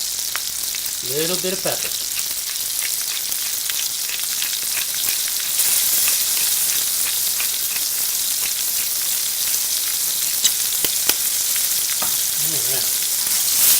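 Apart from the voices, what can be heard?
onions and tomatoes sizzling in a frying pan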